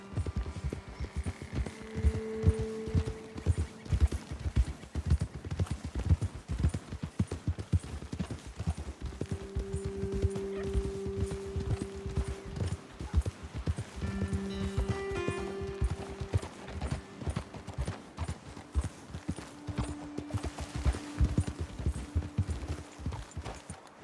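Horses galloping in the video game Red Dead Redemption 2, a steady rapid clip-clop of hooves running throughout over a low hum and sustained tonal music.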